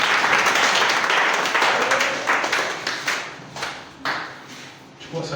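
A church congregation at a Swahili fasting-day prayer service claps hands together, a dense burst of applause that thins into scattered rhythmic claps, with speech-like voices mixed in.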